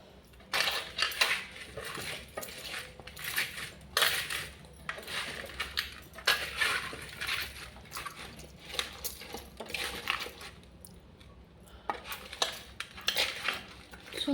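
Raw mango being mixed by hand with salt, turmeric and sugar in a bowl, a repeated clatter and clink of pieces scraping against the bowl in uneven bursts, close and moderately loud with no talking.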